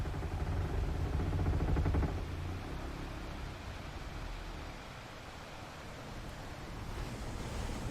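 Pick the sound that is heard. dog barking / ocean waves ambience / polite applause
ocean waves ambience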